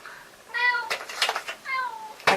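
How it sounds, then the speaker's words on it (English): A house cat meows twice, close and clear, each meow a rising-then-falling cry, with light rustling and a thump between and after the calls, no talking. "My cat again."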